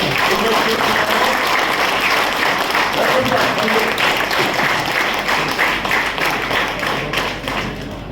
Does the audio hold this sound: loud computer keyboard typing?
no